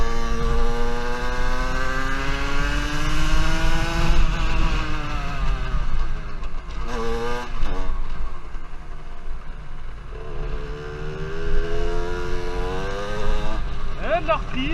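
A Rieju MRT 70 moped fitted with a Metrakit kit revs hard and accelerates, its buzzing two-stroke engine rising and falling in pitch through several gear changes, loud and close, with wind noise and a voice talking now and then.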